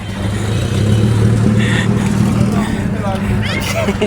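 A car pulls up on a busy Karachi street during Ramadan, its low engine rumble steady and close under a crowd's chatter, with brief higher chirps and clatter around it.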